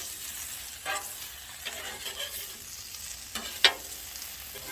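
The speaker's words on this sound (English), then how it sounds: "Swish them around a little bit with your spatula." Spatula scraping and stirring smoked sausage and potatoes on a 36-inch outdoor flat top griddle, a steady sizzle broken by a few short metallic scrapes, the sharpest near the end.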